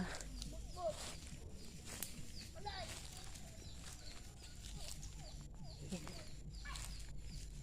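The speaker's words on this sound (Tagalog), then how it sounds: "narinig niyo yung mga huni ng mga pabo at manok" Scattered bird calls, short chirps and gobbling-like notes, sound over steady outdoor farmyard noise with some shuffling, and no speech.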